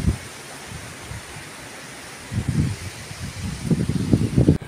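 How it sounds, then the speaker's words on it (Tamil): Gusty outdoor wind rumbles against the microphone, quieter at first and then building into stronger, closer buffeting bursts toward the end, with no talking. "காற்று சவுண்டு."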